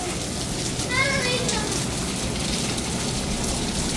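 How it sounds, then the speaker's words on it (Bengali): Steady rain falls in Saudi Arabia, a dense, even hiss of drops on the ground that holds throughout, with faint distant voices in the background. "সুন্দর বৃষ্টি সত্যিই কিন্তু উপভোগ করার মতো।"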